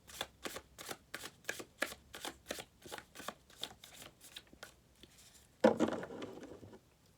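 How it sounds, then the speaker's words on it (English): A deck of tarot spirit animal cards riffled over and over in quick, regular bursts, then a single louder shuffle, close and crisp in a quiet room with no voices. "I'm going to pull a spirit animal card for you."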